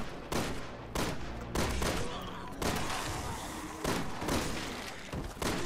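Repeated gunshots in Resident Evil 6 during a zombie fight aboard a plane, landing as sharp separate reports roughly every second or so, fairly loud against a backdrop of game noise.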